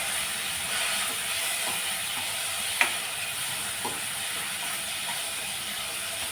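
Tomatoes frying in a pan with onion and whole spices (cloves, cinnamon, bay leaf) for a hotel-style korma give a steady, low sizzling hiss throughout, with a faint click or two and no talk.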